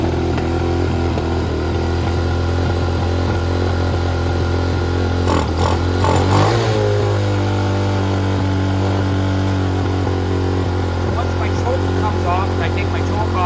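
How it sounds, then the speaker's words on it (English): A small engine fitted with a Nibbi carburetor runs at high, steady RPM with the choke on as it warms up, a loud continuous buzz with a brief clattering blip midway and a voice talking over it. "It should be running at high RPM because our choke's on."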